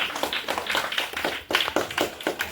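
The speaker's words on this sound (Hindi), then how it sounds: "पहुंच दो ताली बजा दो" Hand clapping during a street magic show, a few people clapping in quick irregular bursts close by, sharp slaps with short pauses between, no talk.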